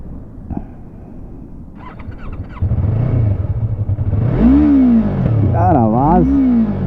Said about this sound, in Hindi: और बाइक कर लेते हैं ऑन